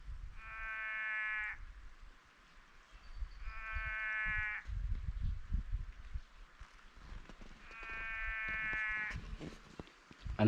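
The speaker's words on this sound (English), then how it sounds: "it sounds like a sheep, but we're pretty sure it's a frog" Three bleating, buzzy calls from a frog, like a sheep, each about a second long, spaced apart over a quiet background with faint rustling, at Kata Tjuta in the Northern Territory.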